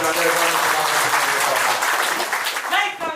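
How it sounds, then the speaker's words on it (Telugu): An audience at a village gathering bursts into loud, sustained clapping that fills the room and tapers slightly at the end, with a voice speaking over it. "మనకు మనమే ప్రశంసించుకోవాలి అట్టిగా గట్టిగా చప్పట్లతో"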